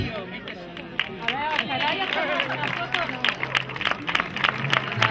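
Applause from the crowd at an awards ceremony for the Extreme Filabres race in Serón, with steady clapping mixed into a busy murmur of voices while someone speaks over a microphone.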